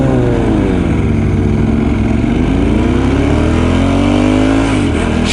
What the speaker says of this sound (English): Oh my god, it's a rev off.